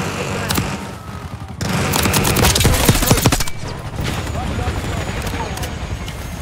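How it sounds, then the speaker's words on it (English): A Black Ops 6 firefight plays out in clustered bursts of automatic gunfire and heavy thumps, loud in the middle and lighter toward the end, with radio voices talking over the shooting. "HVT is taking fire."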